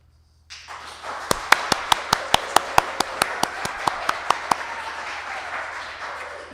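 An audience at a live radio theater show claps in a rehearsal, sharp evenly spaced claps standing out over a rustling crowd that fades after a few seconds.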